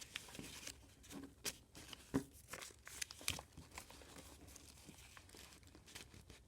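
Paper crinkling and creasing as it is folded into an origami shirt, with soft close rustles and a few sharper crisp crackles, quiet overall.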